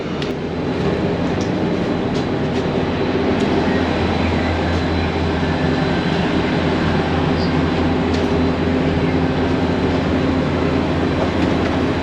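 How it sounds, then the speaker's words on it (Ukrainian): Electric commuter train pulling into a station in the Netherlands, a steady loud rumble of wheels and motors with a constant low hum throughout, no talking. "Ось уже під'їжджає поїзд, або можна сказати, електричка, якою ми будемо їхати."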